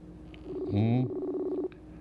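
A telephone ringing tone sounds as one short electronic burst of steady, buzzy pitch lasting about a second, clear and fairly near against a quiet background.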